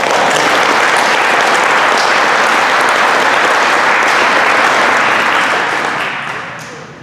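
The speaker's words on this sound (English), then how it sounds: "One more round of applause for our staff." Banquet audience at a high school FFA awards dinner applauding the staff, loud dense clapping from a full room that holds steady then tapers off in the final second.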